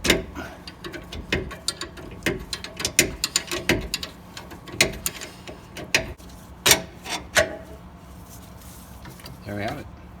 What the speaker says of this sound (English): take our 19 millimeter socket and remove the nuts